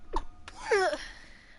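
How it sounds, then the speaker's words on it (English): A character in the video game Vampyr sneezes once, a sharp intake followed by a brief voiced sneeze, fairly close and clear over quiet background. "Sorry, that's a Harriet, sneeze."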